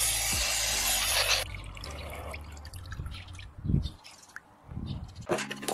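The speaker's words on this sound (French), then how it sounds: "Placez le rouleau sale à l'intérieur de la bouteille et rincez-le sous la pression de l'eau à travers l'ouverture" Tap water rushing into a cut plastic bottle to rinse a paint roller, a loud gush at first that cuts off, followed by quieter drips, splashes and handling noises, then another short burst of flow.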